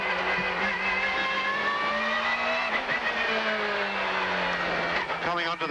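A 1999 Australian Super Touring race car at Winton in the TOCA racing game drones loudly through the gears, with engine pitch climbing and dropping at each shift, while a commentator talks over it.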